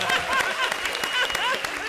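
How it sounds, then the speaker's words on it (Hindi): A studio audience at a televised comedy show bursts into sustained clapping, dense and close, with voices talking over it. "जोरदार तालियां अरबाज भाई के लिए।"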